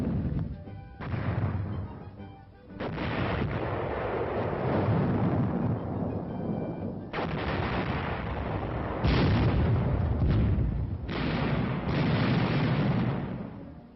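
Artillery guns fire during training at Camp Fuji, Japan: a series of heavy booms, several firing close together, with rolling rumble between the shots, on an old, band-limited recording.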